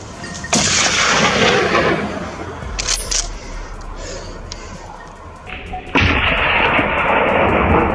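Gunfire on a hillside during a boar hunt: two loud, sharp blasts about five seconds apart, each followed by a long roaring decay, over a steady noisy background.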